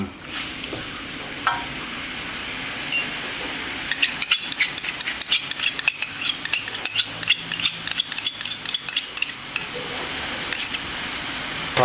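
Pork ribs stir-fried with oyster sauce and soy sauce in a pan sizzle steadily, with repeated scraping stirs and clacks of a utensil coming in clusters from about four seconds on, close and fairly loud, with no talking.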